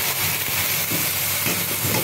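Vegetables frying in hot oil for a kuul and chalta pickle, a dense, continuous loud sizzle and hiss with faint crackles, no talking.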